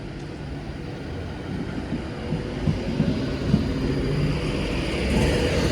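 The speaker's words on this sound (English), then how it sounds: "There's the gun, there's the hiss, there's the whine, there's the whine." A Class 390 electric train pulling out of Oxenholme station in the Lake District, its traction motors giving a steady low rumble with a rising whine that swells toward the end.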